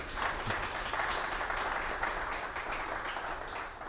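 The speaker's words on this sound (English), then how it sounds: "just wanted to give these two gentlemen a last round of applause" A crowd applauding steadily, a dense wash of many hands clapping at even loudness throughout, with no one speaking.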